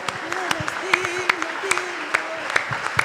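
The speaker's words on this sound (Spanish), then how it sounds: "Dele un aplauso más fuerte al Señor, por favor." Church congregation applauding during a sermon, a moderate wash of clapping with sharp individual claps standing out, while a voice speaks and calls out over it.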